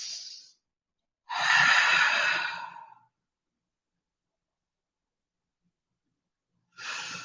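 Slow, deep breaths during a yoga flow: a long exhale after a short tail of a previous breath, then silence, then another breath beginning, close and soft with no talk.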